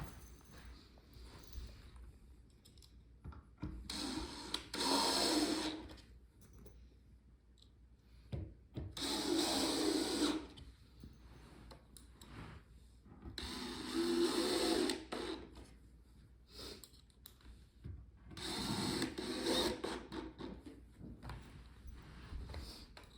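Black screws driven into a wooden farmhouse wall cubby shelf, heard as four separate bursts of whirring power-driver noise, each lasting a few seconds with quiet gaps between, close and fairly loud.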